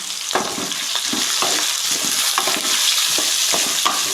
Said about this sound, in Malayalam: അത് നന്നായിട്ടൊന്ന് ഇളക്കി കൊടുക്കണേ